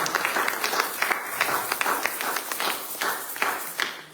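A church congregation claps together in quick, steady rhythm at an afternoon service, a dense, even wash of hands filling the room for several seconds.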